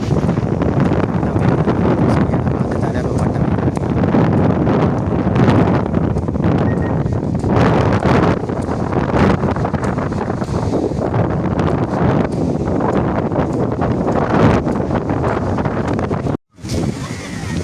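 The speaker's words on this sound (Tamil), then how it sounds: "அந்த காற்று அமோகமாக வீசிக்கொண்டிருக்கிறதால" Strong storm wind roars and buffets the microphone continuously, a dense rumbling gust noise with fluctuating loudness, ending with a brief dropout.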